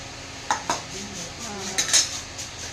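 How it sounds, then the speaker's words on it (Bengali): Cooking utensils and pots clatter while meat is cooked in a home kitchen: sharp metallic knocks and scrapes come in small bursts over a faint background hiss. "রান্না করছি, রান্নার সরঞ্জাম নিয়েছি।"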